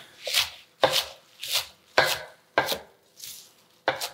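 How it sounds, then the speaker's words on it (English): A knife chops whole kale leaves into bite-sized pieces on a board, seven quick, crisp strokes in a steady rhythm, close and clear with no talking. "chopping quickly."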